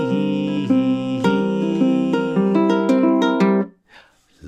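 Ukulele strumming a song, a steady strum pattern with a quick triplet fill of rapid strokes before the chords stop abruptly, played close and alone.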